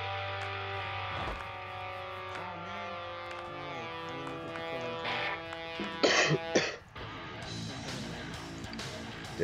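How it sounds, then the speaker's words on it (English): A gamer coughs during a Counter-Strike: Global Offensive session; a few harsh bursts of coughing, loudest around the middle, over steady tonal game sound. "I think I'm gonna have to cut out every time I cough."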